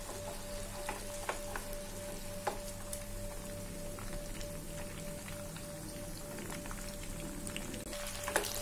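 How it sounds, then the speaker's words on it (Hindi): Chicken moti pulao pieces frying in oil over a medium flame until golden, a steady crackling sizzle with scattered pops, over a constant low hum, close and even, no talk. "मीडियम फ्लेम पे हमें से गोल्डन होने तक फ्राई करना है।"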